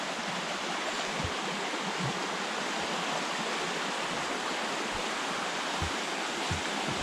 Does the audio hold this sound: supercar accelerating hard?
no